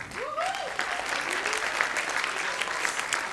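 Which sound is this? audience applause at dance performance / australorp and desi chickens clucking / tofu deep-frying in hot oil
audience applause at dance performance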